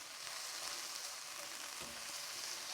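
Grated ginger and minced garlic sizzle in a hot pan while a Korean ground beef and vegetable chow mein is cooked, giving a steady, close crackling hiss with no talking.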